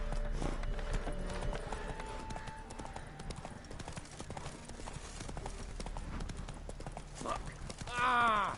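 Roach, the horse in The Witcher 3, gallops with rapid, continuous clip-clop hoofbeats close up, alongside game music and a voice talking, with a louder burst near the end.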